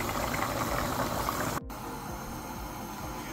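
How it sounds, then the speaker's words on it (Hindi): Potatoes for chickpea chaat boil in a pot on a home kitchen stove, giving a steady, close bubbling hiss that carries on without a break for the whole stretch. "ये मेरी चने की चाट के लिए आलू बॉइल्ड हो रहे हैं"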